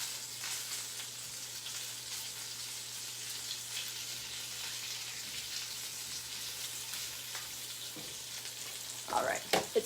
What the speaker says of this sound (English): Let's check on our bacon.